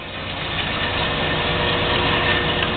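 A JET 10" x 18" band saw 44480 with hydraulic down feed starts up and runs with a steady, continuous motor hum at even loudness, close by, with no talk.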